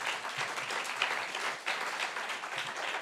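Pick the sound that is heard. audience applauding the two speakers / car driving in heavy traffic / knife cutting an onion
audience applauding the two speakers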